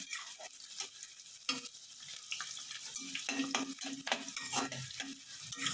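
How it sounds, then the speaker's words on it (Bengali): Chopped onions stirred and fried in a pan for rui fish chilli fish, a steady sizzle with repeated scraping stirs and light clinks of utensil against pan, close and moderately loud, no talking. "পেঁয়াজ কুচিটা দিয়েও একটু নাড়িয়ে নেব, পেঁয়াজটা একটু নরম নরম হয়ে যাক।"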